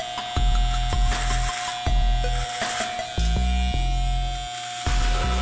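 Electric shaver working over a face and beard, a close buzzing hum that cuts in and out repeatedly as the trimmer is pressed and lifted against the skin.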